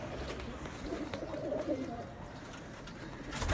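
Pigeons coo softly in a short burst, low murmuring calls close by over a light background hum, with a faint voice nearby.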